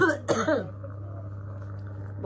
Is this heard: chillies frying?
no